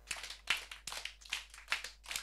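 Hands clap in a rhythmic pattern at a kindergarten gathering, sharp close claps falling in short grouped bursts of two and then three, repeated several times with brief gaps between groups.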